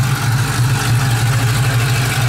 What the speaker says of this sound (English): Almost sounds like a turbo from the amount of air it's sucking into the intake.